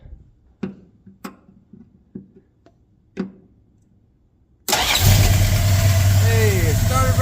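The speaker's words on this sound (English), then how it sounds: "I'm gonna do the Mopar thing and start it right here in the engine bay." A car engine is cranked with a Mopar distributor freshly fitted: several sharp ticks and clicks come first, then the engine catches at once and settles into a loud, steady running roar close by.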